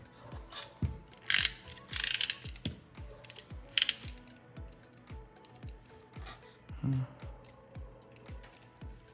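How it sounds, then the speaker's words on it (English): Close, crisp snips and scraping clicks come from cutting rough edge tape on a STIGA Cybershape Wood table tennis blade, in an irregular rhythm with a few louder hissing scrapes. "Let me just cut the edge here."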